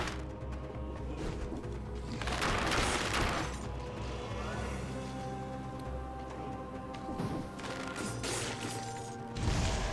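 Combat in the 2D action roguelite game Dead Cells, with bow arrows and grenades firing in a dense run of thuds, crashes and bursts, loud and continuous with game music throughout.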